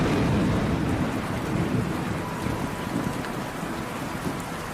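Steady heavy rain with a broad rumbling thunderstorm bed on a monsoon night, continuous and fairly loud throughout, with no voices.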